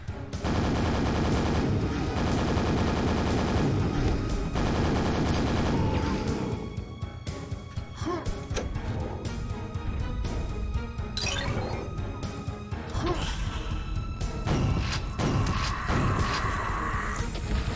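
Rocket launcher fire and explosions in the shooter Quake, a dense run of loud blasts and crashes over thumping game music, with sporadic bursts continuing throughout.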